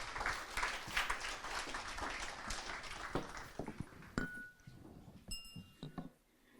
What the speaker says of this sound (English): I'd like to ask you to give a warm round of applause